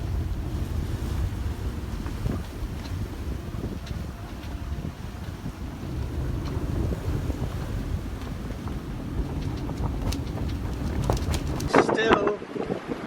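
Strong wind of 30 to 40 knots buffets a sailboat at anchor in Georgetown, the Bahamas, with a continuous roaring gust noise, low rumble and rigging rattles, a few clicks and knocks near the end.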